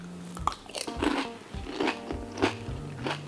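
Crunchy pani puri shells bitten and chewed close to the mic, a run of sharp crackling crunches in quick irregular rhythm, loud and without talk.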